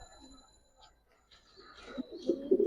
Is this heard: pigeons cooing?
yes